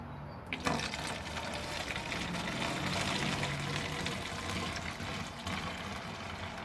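Warm water, about 450 ml, pours steadily into a container to make a concentrated car wash mix, a continuous splashing rush that stays fairly loud and even throughout with no talking.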